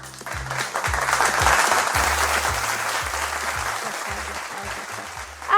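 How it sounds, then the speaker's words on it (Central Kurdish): A studio audience claps steadily during a television show, a dense, sustained round of applause with low musical tones running beneath it. "کوا چەپڵەکانتان"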